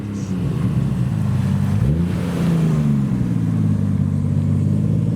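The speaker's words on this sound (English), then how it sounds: "We have another white Toyota Chaser." A white Toyota Chaser rolls past at a car show, its engine a loud, steady low drone that dips and rises in pitch midway as it revs, then settles back into a rumbling idle-like tone.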